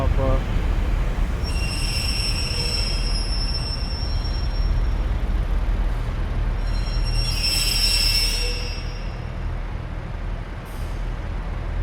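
Class 185 train 185104 pulling out of York Station toward Scarborough: a loud low diesel rumble with high squealing wheel and brake tones rising and fading, heard up close on the platform.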